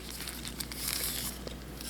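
Thin plastic wrapping crinkles and rustles close up in a soft, continuous burst as a die-cast model is taken out of it, with no talking.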